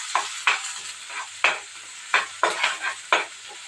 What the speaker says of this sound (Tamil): இதை வதக்கி விட்டுக்கலாம்.